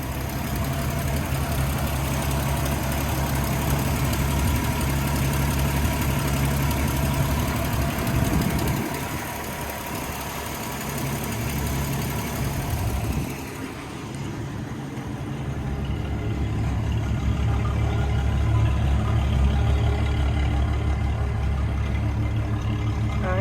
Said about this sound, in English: So it just started up super nicely.